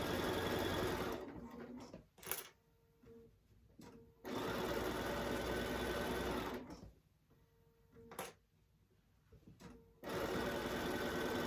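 A sewing machine stitches a fabric tote bag in three loud, steady runs of whirring, each broken by a pause with small clicks as the fabric is adjusted.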